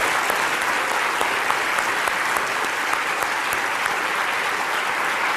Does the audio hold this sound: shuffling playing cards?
no